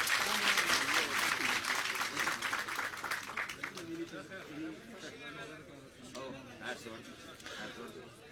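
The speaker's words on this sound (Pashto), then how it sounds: "تاسې په ویاړ چکچکې وکړئ." An audience at a political gathering in Afghanistan breaks into loud applause that slowly thins and fades, with crowd chatter beneath and a voice speaking as the clapping dies down.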